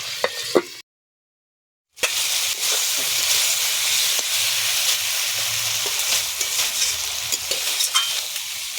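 Masala for an egg curry with matar dal sizzling under a lid after a splash of water, a brief clatter, a second of silence, then a continuous loud hiss of steam and frying with occasional ticks.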